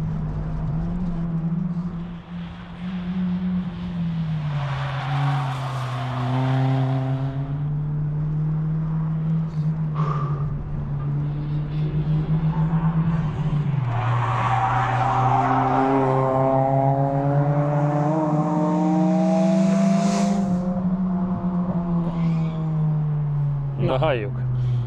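A Mitsubishi car, an Eclipse or Lancer Evo 9, runs a fast timed lap with a steady engine drone that rises and falls through gear changes. It carries on nearly nonstop and sits close and loud under someone talking.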